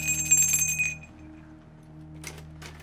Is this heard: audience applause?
no